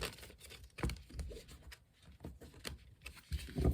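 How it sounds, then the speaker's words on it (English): Tarot cards being shuffled by hand give off a brisk run of papery riffling and soft slapping bursts, close and irregular, with no talking. "Let's continue by pulling 6 tarot cards for the month. A simple 6-card spread, if you will. Some shuffling first."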